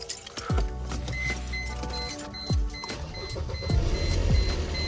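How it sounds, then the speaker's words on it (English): A 1998 Mercedes C230 engine cranks and fires after an alternator replacement and new battery, with sharp starter bursts followed by a steady, rising engine idle close by. "Let's hope this car starts."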